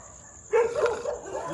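A dog in a played video gives one sharp bark, then a short yelping whimper that trails off, close and fairly loud over a faint steady hum.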